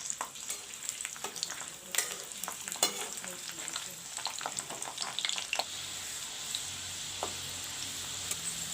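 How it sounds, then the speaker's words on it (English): Halved garlic pods fry in hot oil for a simple potato fry, with quick crackling pops and stirring clicks up close that settle into a steadier sizzle. "The oil is turned hot. Now I'll put the garlic pods in."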